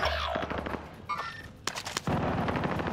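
Automatic fire from a PPSh submachine gun in Call of Duty Warzone comes in rapid bursts, broken by short pauses and overlapping distant shots, with game sounds in between and no talking.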